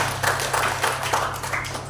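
A church congregation applauds during a sermon, a short burst of steady hand clapping over a low background hum.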